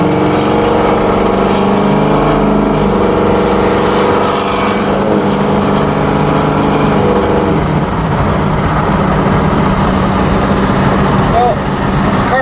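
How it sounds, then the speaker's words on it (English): A 1967 Chevrolet Camaro drives along a road at about 40 mph, its engine a steady loud rumble that continues throughout, with a voice talking over it. "We're running on a road here, but we only got it up to 40 miles per hour"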